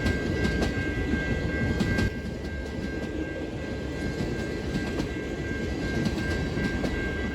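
A CN passenger train with a dome car rolls past, giving a steady, broad rumble and wheel noise that holds at a constant level, with a faint high whine over it and no voices.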